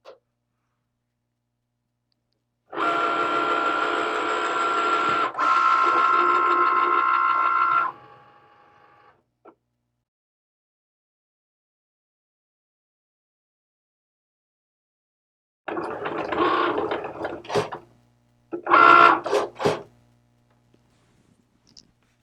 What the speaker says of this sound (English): Now I'm ready to click my Cricut button.